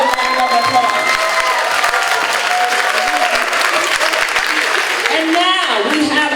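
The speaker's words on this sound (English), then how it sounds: "Can you give her another round of applause?" Loud, sustained applause and some cheering from an audience at an elementary school community celebration, with a voice speaking over the clapping near the end.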